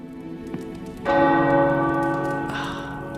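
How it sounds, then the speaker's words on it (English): Tower bells peal in the video game Marvel's Midnight Suns, a quiet stroke first and then a loud resonant strike with a long ringing decay, a second bell entering near the end over soft rain-like patter, no voices. "The tower bells are ringing."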